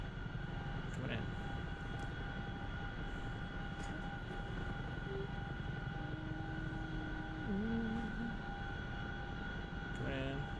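Helicopter flying in the combat flight simulator DCS during a rescue, a steady low rotor and engine drone with faint tonal whines throughout and a brief pitch-bending tone near the end.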